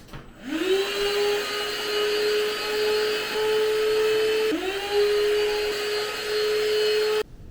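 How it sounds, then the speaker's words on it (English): A household vacuum cleaner whirs early in the morning, starting after a half second as a steady high whine, briefly dipping in pitch midway, then cutting off abruptly near the end. No one speaks. "Is 8 in the morning a little bit too early to start vacuuming?"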